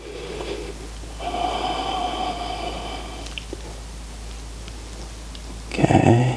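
Slow, audible breaths through the nose during a held yoga balance pose, a long soft exhale followed later by a sharper, louder snort-like breath near the end, with no talk.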